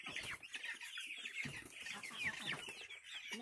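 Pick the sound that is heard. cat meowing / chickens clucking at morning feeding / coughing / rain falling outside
chickens clucking at morning feeding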